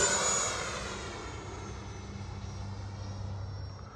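An FMS Super Scorpion 90mm EDF RC jet flies past with a loud, steady ducted-fan roar and airy whoosh that fades slightly as it moves away, with no voices.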